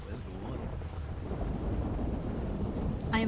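A thunderstorm in GTA V, with a constant roar of rain and low rumbling thunder that builds slightly toward the end and stays loud throughout.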